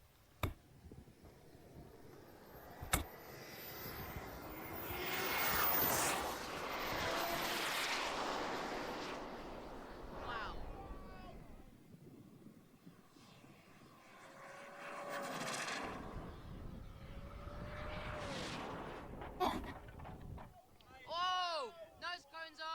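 An RC model jet engine opens to full throttle and climbs to a sustained roaring whine, then fades as the aircraft moves off. Scattered clicks and later high chirps come through while the roar drops away.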